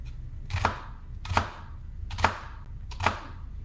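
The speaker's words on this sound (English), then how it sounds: "just cut lengthwise down. This just helps because we want it to be nice and minced, so we're not getting like big chunks of shallot" A knife slices lengthwise through a shallot on a cutting board, four crisp chops spaced evenly and close up, alone with no talk.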